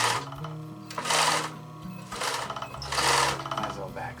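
A sewing machine stitches the seam of a bulky cosmetic bag, running in repeated bursts of rapid mechanical whirring with short pauses between them, close up and fairly loud.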